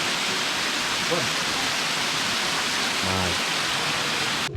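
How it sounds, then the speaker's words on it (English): A forest waterfall pours in a steady, full-band roar that fills the whole clip, with a brief spoken word breaking in over the constant rush. "Waterfall."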